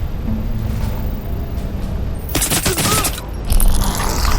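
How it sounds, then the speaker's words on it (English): Rapid automatic gunfire bursts from the shooter Crysis Remastered, a loud crackling fusillade that builds midway and continues with sharp reports over steady combat ambience. "Incoming fire!"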